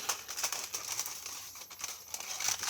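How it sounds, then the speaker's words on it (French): Aluminium foil crumples and crinkles as its edges are folded over, a close, hissing rustle with small crackles running steadily throughout, fairly quiet. "c'est vrai que ça fait beaucoup de bruit l'aluminium"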